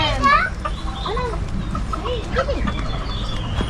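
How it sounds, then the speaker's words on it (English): Japanese chickens clucking in a park bird enclosure, a mix of short calls over a busy background with people and children talking nearby. "Japanese chicken."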